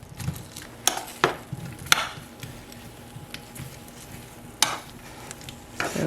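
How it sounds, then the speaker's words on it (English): Buffalo chicken meatballs go into melted butter in a pan, with a soft ongoing sizzle broken by several sharp clacks and scrapes of utensils as they drop in and are moved, no voices. "now I'm just going to transfer the meatballs into the butter"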